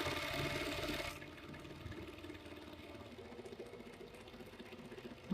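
A foot-operated treadle sewing machine stitches with a steady mechanical whirring and rhythmic clatter, louder at the start and then settling into a softer continuous run without any voices.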